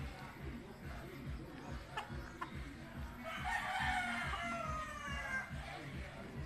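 A rooster crows at moderate distance, a single drawn-out call rising over a steady rhythmic engine-like rumble.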